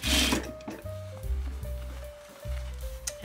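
A sewing machine stitches along a shirt cuff in several short bursts of whirring motor and needle chatter, close and moderately loud, separated by brief pauses.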